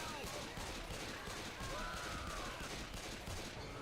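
Pistol fire in Left 4 Dead amid loud, continuous game combat noise, rapid shots running throughout, close and dense, with faint voices in the mix.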